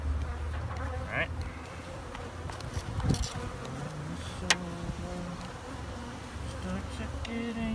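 Bees buzz around close by, a fluctuating insect drone with individual bees passing near the microphone, while a person speaks briefly.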